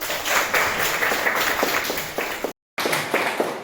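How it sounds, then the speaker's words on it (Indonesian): A classroom of students claps hands during a lesson, a brisk round of clapping with audible individual claps, briefly cut by a gap of silence before resuming. "kita tepuk tangan"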